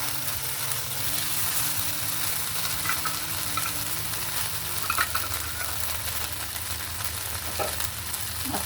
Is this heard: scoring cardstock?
no